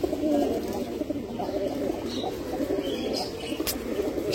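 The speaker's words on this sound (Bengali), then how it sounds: "সামনের দুইটাই তুতা কবুতর," Tutta pigeons coo in low, throaty, repeated calls from a nearby coop, with a few faint chirps and soft rustles mixed in and no one speaking.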